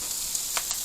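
Slices of corned beef warming on a Blackstone griddle, making a steady, even sizzle close by, with a few faint ticks and pops across the short moment.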